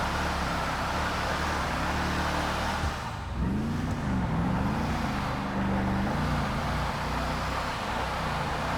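A drift car in the video game GTA 5 drones steadily as its engine revs, the pitch swooping up and down through slides over a constant roar of tyre and road noise.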